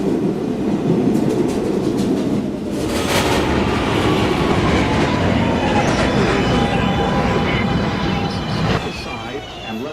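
An R262 subway train in the MTA Automated video game rumbles along with rhythmic wheel clatter and a steady motor drone, while automated station announcements play over it.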